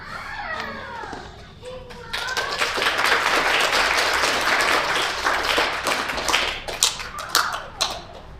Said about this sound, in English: Can we get another round of applause for our storytellers?